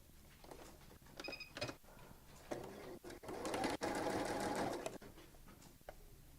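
A sewing machine stitches fabric for a notebook cover, running in short bursts and then a longer steady whirring run, with a few clicks and handling sounds in between.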